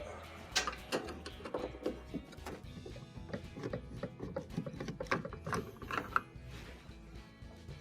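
A screwdriver backs Phillips screws out of a GE washer console, giving rapid, close ratcheting clicks and small metallic ticks in an irregular run, fairly quiet throughout.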